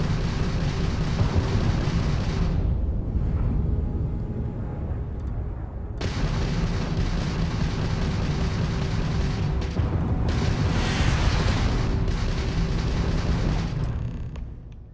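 Missiles exploding against enemy ship engines in a Starfield space battle, heavy deep booms and rumbling blasts that surge, drop briefly, then return in a dense continuous barrage.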